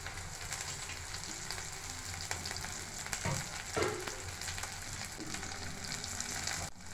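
Capsicum and onion fry in oil in a pan, giving a steady, dense sizzle that runs throughout with a few brief louder crackles and no talking.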